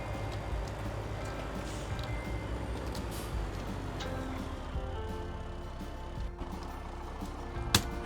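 Truck reversing in Farming Simulator 17, a steady low engine rumble with a sharp beep-like spike near the end, no talking over it.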